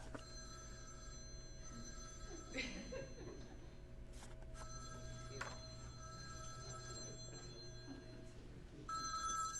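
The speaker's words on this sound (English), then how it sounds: "I'm not going to answer it. Is that a flip phone? It is." A flip phone rings indoors in a public library, its electronic ring tone repeating steadily for several seconds over a low hum of room noise, with a louder burst near the end.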